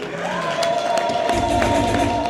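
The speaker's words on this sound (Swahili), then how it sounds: "naomba kumpigie makofi" A graduation audience at a college ceremony claps and cheers, a dense crowd wash with scattered shouts and a sustained tone running underneath.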